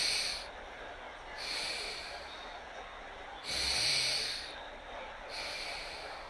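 Slow, audible breaths during a yoga shoulder exercise in an airport setting, with hissing inhales and exhales alternating in a relaxed rhythm, close and fairly loud with no talking.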